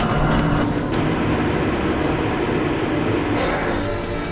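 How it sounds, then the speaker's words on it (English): A train ride in the video game Half-Life: Blue Shift gives a loud, steady rumble of rolling rail car with a continuous low drone and faint clanks, constant and close throughout. "So this train ride will take a few minutes."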